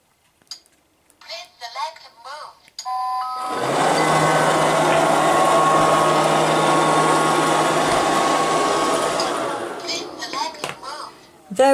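A Liectroux B3000 robot vacuum cleaner runs on a laminate floor, giving a steady, loud whirring drone with a tonal motor hum that starts abruptly after a few seconds of quiet handling noises and continues for most of the time before easing off.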